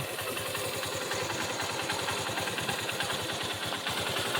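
A tractor engine runs steadily at close range, a continuous low mechanical throb with a fast, even pulse that holds at a constant level throughout.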